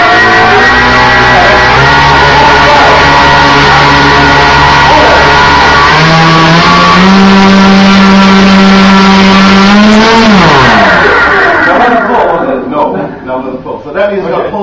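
A Turnigy C8085-250 electric motor spins a blade below full throttle, producing a loud, steady whine that steps up in pitch, holds, then winds down toward the end, with voices heard nearby.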